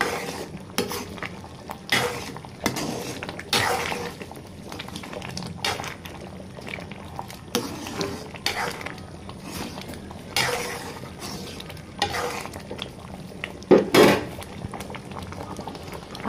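Tempering poured into a pot of sour-spicy lentil dal with bottle gourd greens, which bubbles and simmers while a spoon stirs it with repeated scraping and clinks, close and steady, with no talk.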